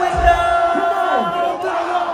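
A large crowd at a SeaWorld show cheers and shouts together in one sustained, fairly loud roar of many voices lasting about two seconds.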